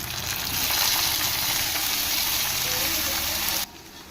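Blanched cauliflower sizzles in hot oil in a home kitchen pan, a loud, steady frying hiss that fills the scene and then drops off abruptly near the end.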